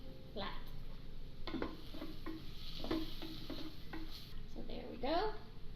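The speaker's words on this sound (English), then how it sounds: "you can scrape the bottom of your pan and get all that good browned butter in there" Flat-edged utensil scraping the bottom of a pan while stirring a browned butter roux, repeated soft scrapes and clinks over a low sizzle, with faint talk at times.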